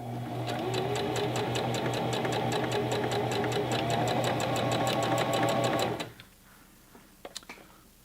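A Singer Classic Heavy Duty sewing machine stitches test fabric at fast speed, a loud steady mechanical whir with rapid rhythmic needle ticks for about six seconds, then stops abruptly, leaving faint handling clicks.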